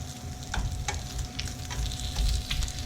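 Onions for a carbonara sizzle while frying in a pan. The steady crackling hiss is broken by a few sharp pops and stirring scrapes, heard up close with no talking.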